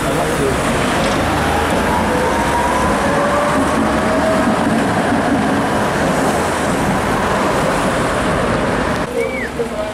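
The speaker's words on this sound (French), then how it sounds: "On prend le train." A train rolls past at a station, a loud steady rumble with rail clatter and a brief squeal near the end, close and continuous.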